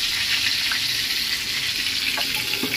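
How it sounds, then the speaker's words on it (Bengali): Whole pointed gourds (potol) fry in hot oil, giving a dense, even sizzle that holds steady throughout with no talk over it. "এদিকে পটল ভাজা হতে থাক"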